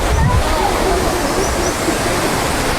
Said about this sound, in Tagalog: Ah, ayun nga, Pulang Bato Falls.